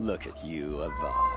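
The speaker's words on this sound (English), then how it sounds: "And that's my cat." A pet cat meows once or twice up close, its cry mixed in with someone talking over it.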